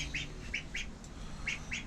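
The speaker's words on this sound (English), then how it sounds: "of course, the ducks are growing fast." Growing young ducks calling indoors, a handful of short high chirping peeps in quick irregular bursts over a steady low fan hum, fairly faint.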